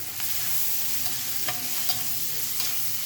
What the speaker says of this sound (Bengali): দিয়ে আবারও নাড়াচাড়া করে ভালো করে এটাকে ভেজে নেব